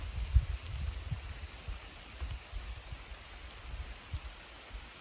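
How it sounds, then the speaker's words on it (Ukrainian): Rain falling on an autumn day in the Carpathian mountains amid fog, a soft, even, continuous patter with faint low thumps of drops, quiet and steady with no voices. "погляньте, як виглядає ось ця сама місцевість, що знімав для вас в день під час дощу і туману"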